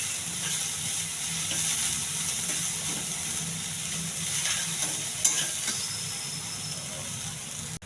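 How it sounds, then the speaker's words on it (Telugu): Sprouts frying in a pan while being stirred continuously give off a steady sizzle with soft scraping, and a voice is heard faintly now and then. "బారిపోకుండా కలుపుతూ ఉండాలి."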